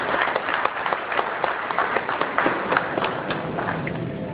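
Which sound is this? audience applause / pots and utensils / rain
audience applause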